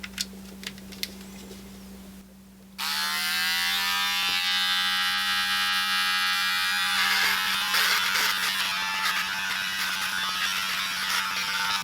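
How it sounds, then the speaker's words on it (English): A Harry's electric shaver switches on and buzzes steadily up close, its motor pitch shifting slightly as it trims over stubble, over a faint mains hum. "let's plug in the shaver here"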